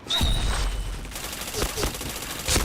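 Gunfire in a shooting video game, a loud, close stretch of automatic fire with several sharp separate shots that stand out, mixed with a person talking.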